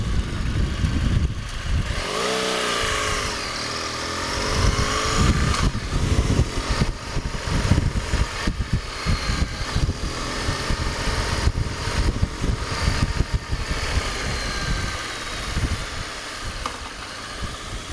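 A 2013 BMW R1200GS TE motorcycle engine runs steadily and fairly loud throughout, a continuous rumble with some fluctuation and wind-like noise, no talk over it.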